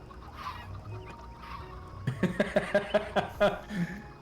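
Faint talk at first, then a quick run of loud, nasal honking squawks from several chickens close by in the video game Minecraft.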